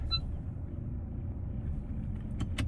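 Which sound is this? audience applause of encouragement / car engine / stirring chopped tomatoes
car engine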